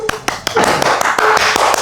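Sharp hand claps ring out in an uneven series, around eight strikes spread over two seconds, close and loud, with a mixed babble of voices and room noise filling the gaps between them.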